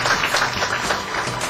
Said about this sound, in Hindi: तालियां खूब बज रही हैं